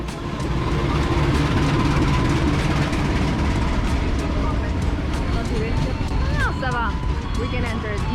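Steady loud rumble of a train in motion between Banyuwangi and Probolinggo, Indonesia, heard from inside an economy-class carriage, dense and continuous throughout, with faint voices in the background.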